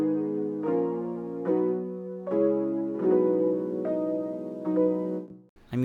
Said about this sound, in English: I'm using Keyscape for this, and I am on the MKS20 Piano 2 Gospel preset